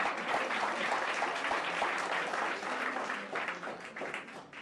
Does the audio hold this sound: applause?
yes